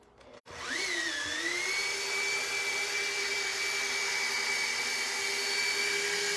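A machine polisher with a thick double-sided pad spins up and then runs as a steady loud whirring drone while polishing a concave section of a surface.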